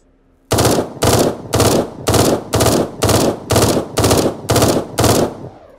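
Rapid automatic gunfire from the Eden Star video game, ten loud evenly spaced bursts in a steady rhythm, close and without talk.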